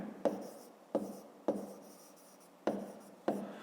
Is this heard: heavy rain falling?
no